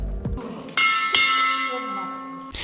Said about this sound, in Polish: Jedna z pacjentek, która zakończyła leczenie, symbolicznie uderzyła w dzwon życia.